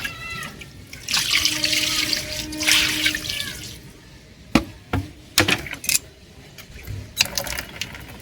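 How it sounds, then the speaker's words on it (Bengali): Water is poured and splashed over fish being washed on a cement floor by a wood-fired cooking area, a close gush of running water followed by wet slaps and drips, with a faint cat-like cry early on. "জলটা মাছের গায়ে ঢেলে দাও"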